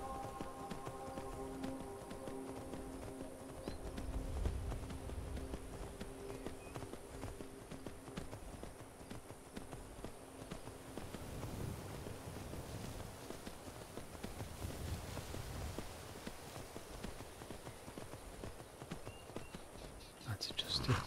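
Horse hooves clip-clopping along a road while riding in Skyrim, a steady rhythmic plodding under soft game music, with someone talking quietly over parts of it.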